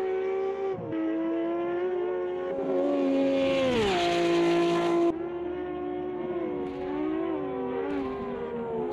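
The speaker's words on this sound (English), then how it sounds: "So through the last corner, you can hear the car brake, try to downshift and brake on the engine as well" A race car in a sim racing game brakes hard into the final corner, its engine note dropping through downshifts with engine braking, then rising again on exit, loud and continuous with no voices.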